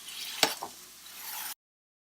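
Burger patties smashed thin with a spatula and measuring cup on a hot surface, two sharp scraping presses followed by a soft, steady sizzle that cuts off abruptly.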